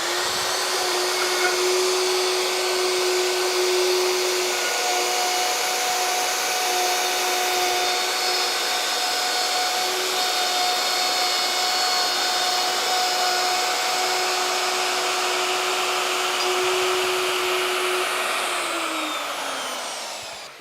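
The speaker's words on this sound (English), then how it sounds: "double stick tape there to keep the router nice and balanced" A wood router runs steadily for about twenty seconds, cutting along a template while laminating curved work, with a continuous loud, high whine and no talk.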